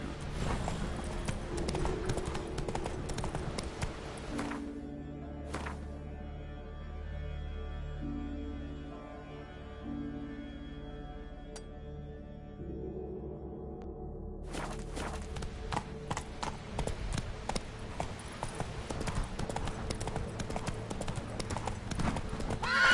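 Hooves of the horse Roach clip-clopping in The Witcher 3, a steady rhythmic gait that runs through nearly the whole stretch under game music, thinning briefly in the middle before the quick clatter returns loud and close.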